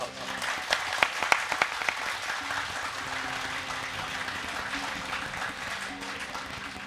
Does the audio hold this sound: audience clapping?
yes